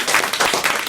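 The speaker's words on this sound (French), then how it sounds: "On vous applaudit, on vous remercie Stéphane." Brief burst of studio audience clapping on a French radio show, a quick flurry of hand claps close by, lasting under a second.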